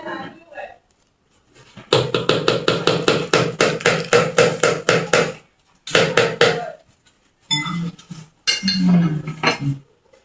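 A spoon clinks rapidly and rhythmically against a pot while mixing a sugar, milk and salt syrup for coated peanut burger, a steady run of scraping taps broken by short pauses, with voices talking over parts of it.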